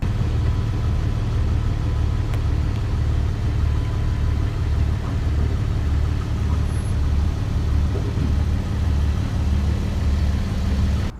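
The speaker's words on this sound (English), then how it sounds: "And I'm gonna reverse my car on the CRYPTOTAG." A car slowly reversing over a titanium CRYPTOTAG wallet plate, heard as a steady, close, low engine idle and rumble for the whole stretch, with no distinct crunch or impact standing out.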